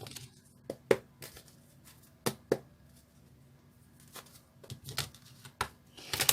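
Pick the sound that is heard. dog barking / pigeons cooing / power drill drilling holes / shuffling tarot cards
shuffling tarot cards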